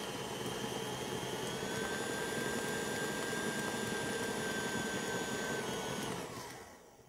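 Electric mixer whipping meringue with clove spice at full speed, a loud steady motor whine with a rising tone, running continuously before shutting off near the end.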